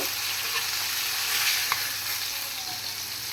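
Fish frying in hot oil in a home kitchen, a steady bright sizzle and crackle close by with small pops, no talking.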